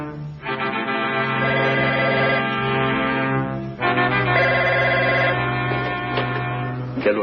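Telephone bell rings in two long, loud trilling bursts separated by a short gap, close and alone.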